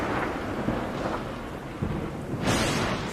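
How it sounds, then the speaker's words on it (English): Thunder from a lightning storm over Yosemite Valley rumbles in low rolling bursts, with a sharper crack near the end, over a steady wash of rain. "Bursts of lightning,"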